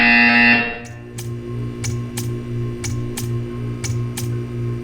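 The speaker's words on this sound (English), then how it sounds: "You will hear a buzzer." A harsh loud buzzer in the video game Portal 2 blares for under a second, then a low electronic hum continues with a series of regular ticking clicks.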